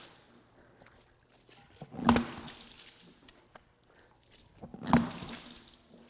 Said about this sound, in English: We'll empty all the water out.